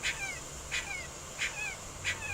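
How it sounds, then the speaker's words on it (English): A puppy trapped in a car cries in distress, four evenly spaced high-pitched whimpers, each a short yelp sliding downward, faint over a steady low background hum. "it's a puppy, and I can't see it, but it's crying. It appears to be in distress."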